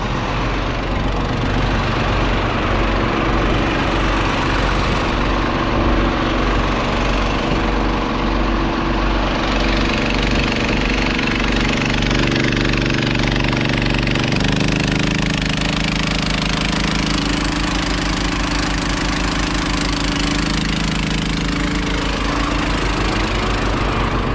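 Small engine that sat unused all year runs steadily while a tank fills, a loud continuous low rumble with a knocking, chugging rhythm that shifts slightly in pitch midway, with no voices.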